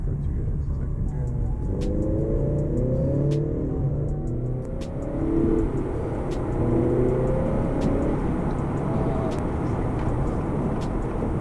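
A 2021 Acura TLX base model accelerates on the highway, heard from inside as a steady engine hum with rising gear pulls and road rumble, under ongoing talk.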